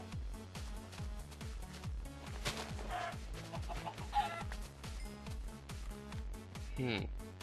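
Minecraft chicken clucks in short bursts over a rhythmic, looping game soundtrack, with a player talking now and then.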